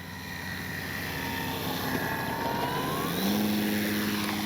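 A CNHL Bison XT RC bush plane flies overhead on its maiden flight, its electric motor and propeller giving a steady, continuous whine that shifts in pitch as the throttle changes.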